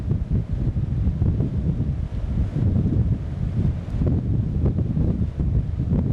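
Wind-tunnel airflow at 15 metres per second blasts a DORMA ED100 swing door operator, a loud continuous low rumbling roar with gusty buffeting and no speech.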